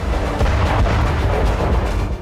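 Dense, rumbling booms from explosions after a drone strike on a military base roll together in a continuous heavy barrage, loud and distant-sounding, with no voices.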